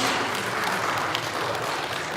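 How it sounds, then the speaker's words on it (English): An audience at a Philippine Technological Council World Engineering Day event applauds for a sponsor, a dense steady patter of many hands clapping, close and continuous, without talk. "round of applause for our sponsor"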